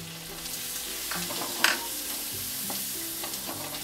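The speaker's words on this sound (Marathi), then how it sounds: "हे बघा, आता हा असा लसूण भाजून घ्यायचा" Garlic frying with green chillies and cumin seeds in a pan, a steady close sizzle with occasional spoon scrapes and stirring clicks throughout.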